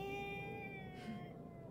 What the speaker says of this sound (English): Do you guys hear that cat slowly being flattened?